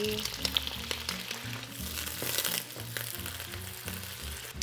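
Dried tofu and pork stir-fried in oil over medium heat, Hakka style, with a steady, close sizzle and occasional scrapes and clinks of a spatula in the pan.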